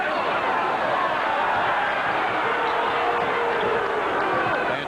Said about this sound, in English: Fans booing. They wanted a foul on Leitner.